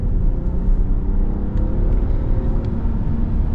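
A 2026 Ram 1500 Express with an inline six engine rumbles at a steady, loud, close idle, its deep drone even and unbroken throughout.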